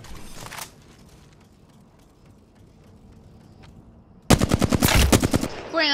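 Automatic gunfire in the battle royale game Apex Legends: a brief burst at the start, then a long loud rapid volley of shots near the end, over faint game ambience.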